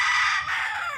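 A backyard rooster crows once, a loud drawn-out call held close by for the whole second with no speech.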